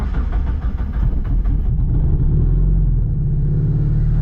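A Porsche engine fitted with a Mustang GT throttle body idles around 1,100 rpm with a steady low rumble, loud and close, with no other sounds.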